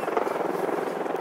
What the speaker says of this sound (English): It was a military helicopter from the looks of things,